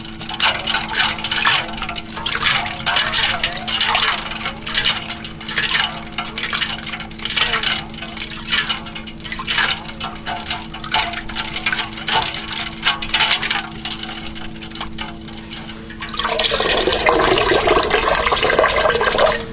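Cottage cheese curd being agitated by hand in a bowl of water, with continuous sloshing and splashing that shifts to a heavier rush of pouring water near the end.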